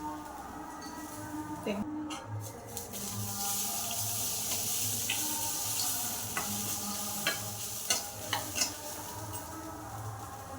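Beetroot stir-fry being stirred in a hot pan, a soft continuous sizzle with scraping spatula clicks and occasional sharper clinks, fairly faint, while a voice talks over it.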